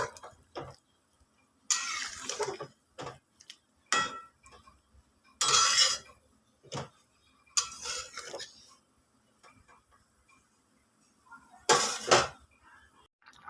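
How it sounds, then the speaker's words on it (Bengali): Jackfruit curry being stirred in a cooking pot: several separate bursts of spoon-on-pot scraping and clinking, close and moderately loud, spaced out with quiet gaps between them. "এটাকে আমি এরপর ভালো করে এভাবে নেড়ে দেব"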